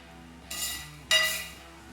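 Sesame, coconut and masala mix tipped into neyyappam dough in a Kerala kitchen, heard as two short, close bursts of scraping and clinking of a utensil against the bowl, with no talking.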